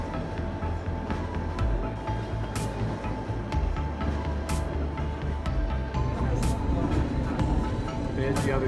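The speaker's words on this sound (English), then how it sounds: "We are now on the tram heading up, up, up." A tram climbs uphill in Rio de Janeiro, giving a steady rumbling ride with low motor hum and periodic sharp clacks and squeals from the rails, while people talk over the noise.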